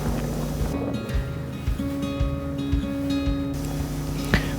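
A wooden boat motors across open sea near Labuan Bajo, its engine droning steadily with tonal hum under wind and water noise, a few bumps and knocks breaking through along the way.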